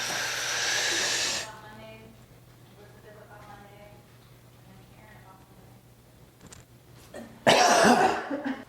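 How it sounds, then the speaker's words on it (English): A single sharp cough closes a breathing exercise in a clinic setting. It comes after a long breath and a quiet held stretch with faint voices, and it lands near and loud at the end. "instead of the exhale after 5 seconds, we're gonna give a little cough."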